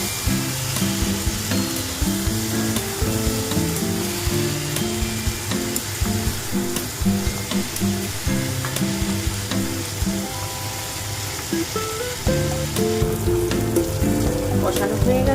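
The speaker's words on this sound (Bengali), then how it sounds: "একটু ভালো করে কষিয়ে নেব।" Shrimp, jackfruit and potatoes sauté in hot spiced oil for a wedding-style Bengali curry, with a loud, steady sizzle throughout. Occasional scrapes and knocks from stirring sound in the pan, close up.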